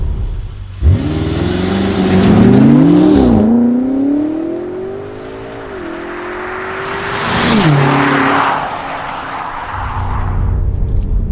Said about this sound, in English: It's just got such a clever system that fires you down the road from a standstill.